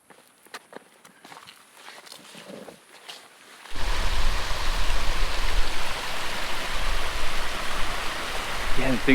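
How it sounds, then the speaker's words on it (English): Steady roar of rushing water deep in a mountain valley in Nevada's Ruby Mountains, breaking in loudly after a few seconds of quieter footsteps and then holding as a constant broadband wash to the end. "you can just hear the constant roar of water"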